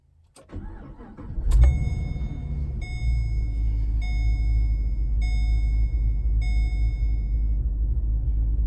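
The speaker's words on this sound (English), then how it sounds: "let me start the car up real quick to get that going" A Chevrolet Caprice cranks briefly, fires up and settles into a steady, rumbling idle, loud and close, with a faint high whine running over the engine.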